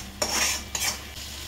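Malvani masala sautéed over raised heat in a pan, stirred with a utensil in two quick scraping bursts over a soft sizzle, close and moderately loud.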